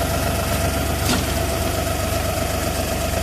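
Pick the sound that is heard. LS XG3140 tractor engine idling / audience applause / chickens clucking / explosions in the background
LS XG3140 tractor engine idling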